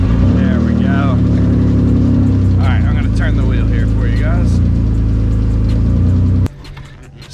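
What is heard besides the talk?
Mitsubishi 3000GT drift car engine starting and running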